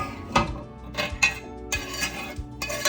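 Chopped onions and garlic tumble into a pan of ground beef for chili, giving a few sharp clattering knocks and scrapes of metal and utensil at intervals, close and fairly quiet, with no talking.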